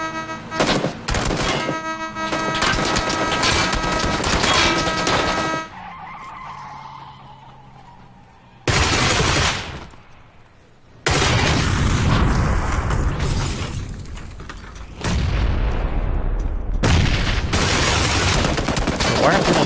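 Gunfire from the video game PlayerUnknown's Battlegrounds rattles in loud, rapid bursts broken by short pauses, with booming shots and skidding vehicle noise in the mix.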